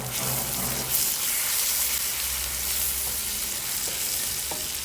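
Chili and ground spices sizzling in hot oil in a pan for an okra dish, a steady close crackle and hiss with occasional stirring scrapes and no talk.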